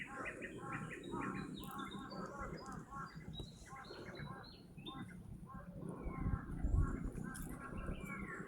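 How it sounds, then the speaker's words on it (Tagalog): Birds chirping and tweeting on farmland in San Juan, Batangas, many short repeated calls layered over a steady outdoor background, with a voice speaking briefly and a low rustle and thump near the end. "Ay, may ibon."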